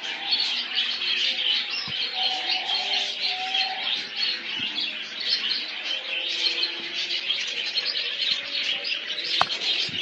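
Budgerigars chirp and twitter steadily in a bird farm full of cages, a dense, continuous flock chatter with occasional brief calls standing out.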